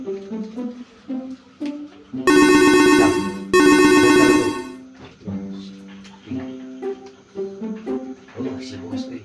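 Phone ringtone of an incoming call, a bright melodic electronic tune sounding loudly in two bursts of about a second each, with people chatting in Sundanese before and after it.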